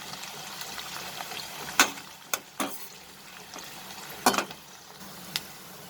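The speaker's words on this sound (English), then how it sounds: "fry the sliced onion in this same oil" Sliced onion fries in oil with a soft, bubbling sizzle, broken by several sharp utensil clatters and scrapes against the pan at irregular moments, close by and with no talking.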